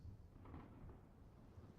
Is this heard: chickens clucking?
no